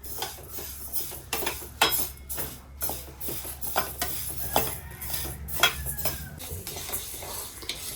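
Horse gram being dry-roasted in a pan, stirred with a spoon that scrapes and clinks against the metal in irregular bursts, while the dry seeds rattle faintly.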